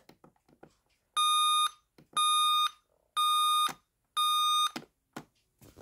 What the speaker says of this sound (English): Alright, this alarm clock has two different tones.